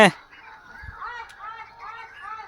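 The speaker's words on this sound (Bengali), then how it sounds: "ওই যে ডাক পাখিগুলো ডাকছে না চারিদিকে" Several ducks call nearby in a repeated nasal honking chorus, overlapping and steady after a sharp opening burst.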